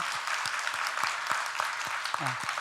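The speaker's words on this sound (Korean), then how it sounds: "우리 잘 사시라고 격려하는 박수를" Church congregation clapping for a newlywed couple at a Sunday service, a moderate scattered applause with distinct individual claps and a brief voice near the end.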